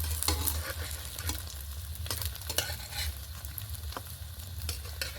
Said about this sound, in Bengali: এবারে সামান্য একটু তেল নিয়ে পরোটাগুলো ভেজে নেব।